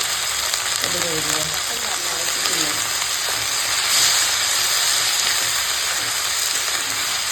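Dry red chillies and nigella seeds frying in hot oil as a tempering, a steady broadband sizzle and hiss that holds evenly throughout, with faint voice traces near the start.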